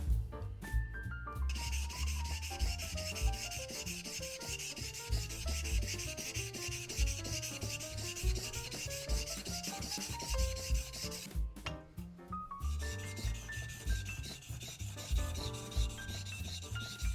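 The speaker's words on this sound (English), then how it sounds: "repeat the sharpening process with a 3000 grit whetstone to refine the edge" A leather skiving knife blade rubs back and forth over a 3000 grit whetstone in a steady, even scraping rhythm, close and continuous with one short pause.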